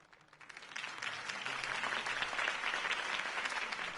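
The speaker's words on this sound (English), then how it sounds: "If only Mr. Wayne, my campaign's largest backer, could have heard that applause" Crowd applause in the video game Telltale Batman, following a Harvey Dent campaign speech, swelling from quiet into a steady, full roar of many hands that holds to the end.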